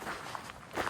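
Footsteps in a horror video game, a few soft, quiet steps spaced irregularly across a brief moment, heard alone without talk.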